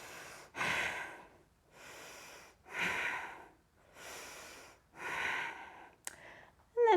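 Slow, heavy breaths sound close while someone holds a side plank, about four airy inhale-exhale swells at a steady rhythm, with a short click near the end.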